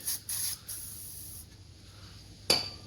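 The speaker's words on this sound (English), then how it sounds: "spray a heap of penetration spray up in there" Short hissing bursts of a penetrating oil aerosol spray on a Nissan Patrol GQ bump stop, two quick puffs then a longer one, followed by a final sharp spurt, close up.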